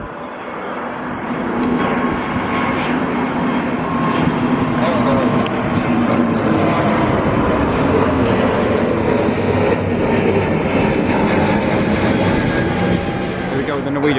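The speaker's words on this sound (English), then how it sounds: "Takeoffs now. Yet another EasyJet. Go with the Wizz A321" A Wizz Air A321neo jet taking off at London Gatwick makes a loud, sustained engine roar that swells and holds steady, with a broad rumble and a faint whine.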